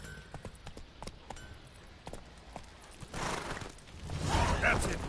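Horse hooves clip-clop in The Witcher 3 as the rider's horse moves at a steady walk, soft regular hoofbeats under a game soundscape that swells louder toward the end, with speech at times.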